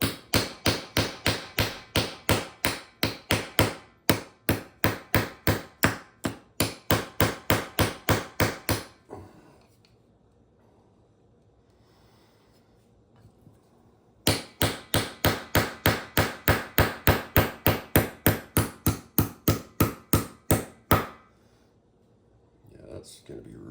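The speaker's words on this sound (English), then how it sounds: "I should not have had to put it in with the hammer." Rapid hammer blows drive a tight part into a pink 4x4 Slash RC car, sharp close taps in two long bursts with a quiet pause between.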